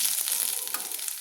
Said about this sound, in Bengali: দিয়ে একটু আদাটা আমি কিন্তু ভেজে নিচ্ছি।